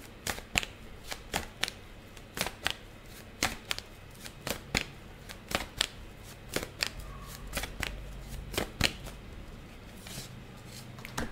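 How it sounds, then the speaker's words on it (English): Tarot cards are shuffled and drawn from the deck, giving a long series of sharp, close slaps and riffles in an irregular rhythm, alone with no talking. "We pulled 2 cards, so let's see."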